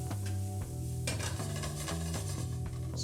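Shrimp sizzling and being tossed quickly in a frying pan for a Louisiana Cajun dish, a brief sizzling rush and a few scraping, tossing bursts beneath loud tonal background music.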